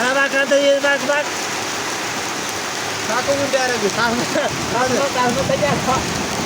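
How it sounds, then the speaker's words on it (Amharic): Steady rain hisses throughout while someone talks over it. "እንደምታዩት ዝናብ እየዘነበ ነው።"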